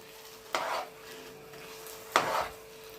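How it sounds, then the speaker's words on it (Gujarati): A spoon scrapes twice through thick arrowroot flour halwa studded with cashews, almonds and raisins in a pan, two short distinct strokes over a quiet background. "હજી આપણે કન્ટિન્યુ હલાવતા રહેશું"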